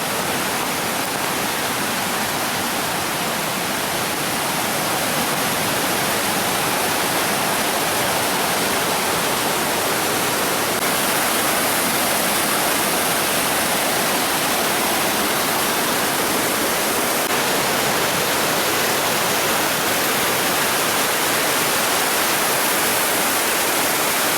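Irpu waterfall in Coorg, Kodagu, swollen with monsoon water, roars as a steady, loud broadband rush of falling water that fills the whole scene without pause.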